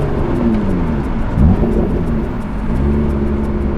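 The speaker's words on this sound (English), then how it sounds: "That is the loudest I've ever heard that supercharger whine." Exotic car fitted with a custom intake revs hard, its loud engine roar carrying a supercharger whine that sweeps up and down through one brief pull, close and continuous.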